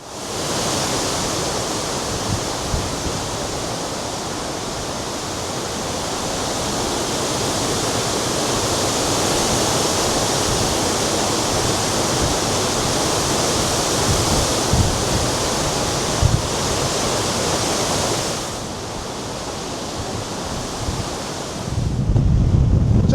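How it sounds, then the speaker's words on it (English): Loud, steady roar of strong wind in the Snowy Mountains near Mt Kosciuszko, Australia, buffeting the microphone, a constant broadband rush that continues without pause throughout. "It is very, very windy, and a bit of wind chill along with it."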